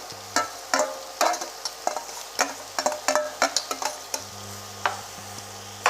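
Grated carrot stirred in melted ghee in a wok gives a soft sizzle under rhythmic clanks and scrapes of a spatula against the metal, close and with no speech.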